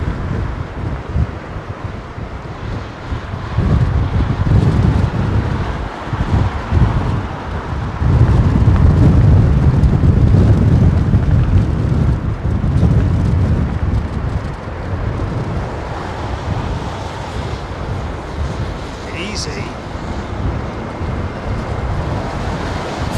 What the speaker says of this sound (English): Let's gauge the wind ferocity